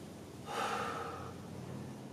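A deep, audible breath, likely an exhale, rises suddenly during a home floor exercise, with a soft steady hiss of breathing continuing afterward.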